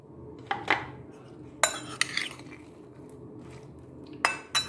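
Boiled potatoes dropped into a bowl for aloo channa chaat and stirred, giving a few sharp clinks and knocks of a utensil on the dish with soft thuds in between, close and otherwise quiet.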